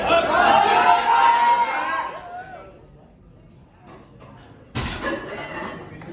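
Crowd at a powerlifting meet cheers and shouts loudly for a lifter's heavy attempt, voices swelling then easing, followed by a sudden thud and renewed noisy chatter.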